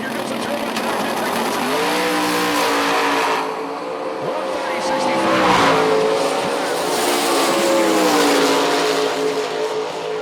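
A Ford Mustang and a turbocharged Chevrolet Camaro drag race with loud, roaring engines and tire screech rising and falling. An announcer talks over the roar throughout.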